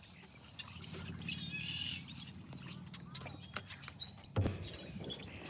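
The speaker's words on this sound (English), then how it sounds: "These birds is like, burr, burr, burr" Small birds chirp and tweet in a tree, quick high calls scattered over a continuous outdoor background with a low hum and an occasional soft knock.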